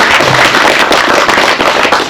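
Loud, dense applause from an audience at a Tamil Nadu film directors' association event honouring director Chidambaram, a thick unbroken crackle of many hands clapping close by.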